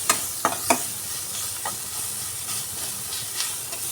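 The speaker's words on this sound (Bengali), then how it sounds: "মশলা আর পেঁয়াজ একসঙ্গে খুব ভালো করে ভেজে নেব" Onions and spices, including garam masala, fry in a hot pan with a continuous oily sizzle and hiss. A few sharp scraping clinks from stirring stand out near the start, then fainter stirs follow.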